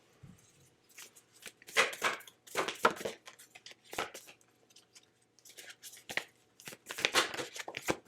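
Oracle cards being shuffled by hand: soft, papery riffles and brushing strokes coming in irregular bursts, close and quiet, with short pauses between handfuls and no talking.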